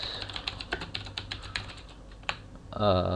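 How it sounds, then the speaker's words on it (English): A computer keyboard is typed on in a quick run of close, crisp key clicks, followed by a brief voice at the end. "then you type this"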